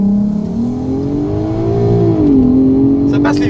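An R32 car launches with launch control onto a scenic road, its engine droning loud and close as the pitch climbs steadily, dips briefly and rises again.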